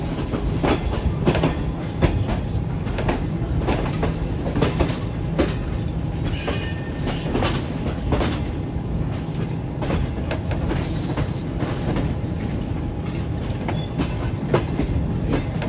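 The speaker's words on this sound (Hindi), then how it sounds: "अब हमारी ट्रेन इस तरफ से मुल्तान के रास्ते हो जाएगी" Shalimar Express passenger train rolling on rails, heard from inside an AC parlour car between Lahore and Multan: a steady, loud rumble with a regular clickety-clack of wheels over rail joints throughout, with no voices.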